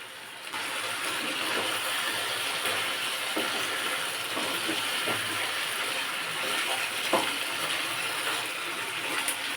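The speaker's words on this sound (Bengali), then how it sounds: "এবার দিয়ে দেবো পেঁয়াজ বাটা আদা রসুন বাটা ভালো করে কষিয়ে নেবো" A paste of onion, ginger and garlic sautés in a pan for doi chicken, giving a continuous broad hiss. A few soft stirring scrapes and taps sit on top of it, and no voices are heard.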